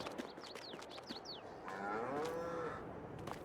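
Holstein cattle in a farming game's Wisconsin cattle map give a long, drawn-out moo near the middle, with small chirping bird calls earlier over a soft outdoor ambience.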